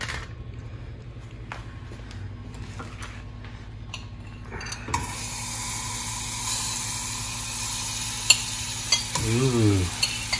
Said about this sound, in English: you're sauteing the vegetables there, as we can see